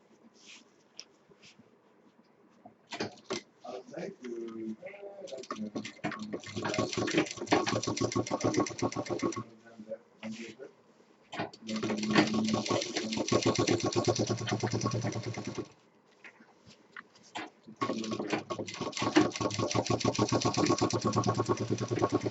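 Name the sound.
sewing machine stitching a handbag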